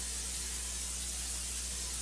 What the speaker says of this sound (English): So we're going to spray our pan